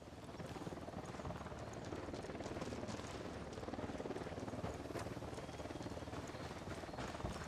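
A helicopter's rotor thuds in a fast, steady chopping rhythm, constant and moderately loud for the whole stretch, with the whine of the engine underneath.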